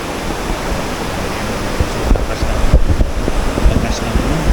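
Loud, continuous roar of strongly rushing water at the Hapid irrigation system in Lamut, Ifugao, a broad turbulent wash with some gusting bumps and faint voices under it.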